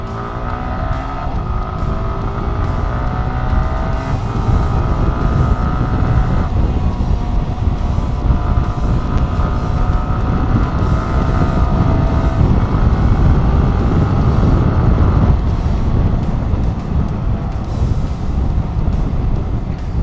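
A car engine revs continuously and loudly for the whole stretch, its pitch climbing in repeated sweeps and dropping with each gear change before rising again, with no talking over it.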